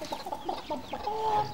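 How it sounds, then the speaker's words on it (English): Chickens clucking close by in a short burst of soft, repeated clucks and murmurs, a few birds overlapping, with no talk. "Right then, Sooty, let's feed these chickens now."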